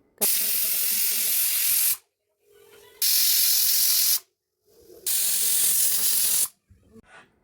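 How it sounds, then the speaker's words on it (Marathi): A pressure cooker on the stove, cooking masala rice, lets off three long, loud hissing blasts of steam, each about one to two seconds, separated by short pauses with faint background noise. "त्यानंतर आपल्याला कुकरला झाकण लावून दोन ते तीन शिट्ट्या"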